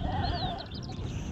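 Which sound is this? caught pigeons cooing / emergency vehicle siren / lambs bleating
lambs bleating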